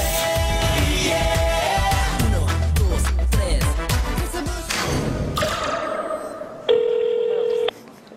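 Phone keypad tones tapped out on a telephone, a busy run of short clicks and beeps, followed near the end by a steady electronic tone lasting about a second, on a Heilongjiang TV variety show set.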